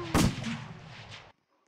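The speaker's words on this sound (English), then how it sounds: "just shooting off down there, just wasting round after round" A single booming gunshot in a video game, loud and close, with a rumbling decay lasting about a second before cutting to silence.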